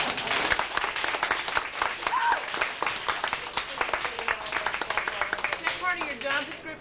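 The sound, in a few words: audience test applause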